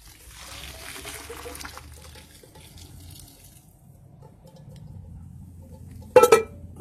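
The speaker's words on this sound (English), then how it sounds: "So let's add the water." Water being added to a cooking pot trickles faintly and steadily, then a brief louder splash and clatter near the end, with no talking.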